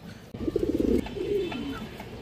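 A male China Khaki pigeon coos close by in a soft, rhythmic, throaty series of pulses, followed by a longer rolling coo, with faint background noise and no talking.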